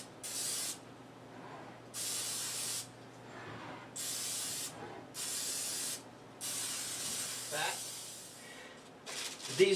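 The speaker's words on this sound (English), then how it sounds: "the first thing I'm going to start with is spraying the pan" Cooking spray hissing from an aerosol can onto a pie pan in a home kitchen, about five separate bursts of a second or more each with short pauses between, followed by faint handling clatter at the end.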